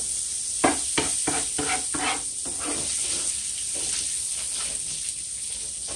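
Thinly sliced onions fry in a tablespoon of oil in a pan, a steady hiss and sizzle with a run of scraping stirring strokes early on that fade into continuous frying, close up, no talking.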